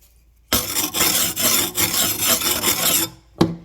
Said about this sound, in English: The diamond files are quite nice.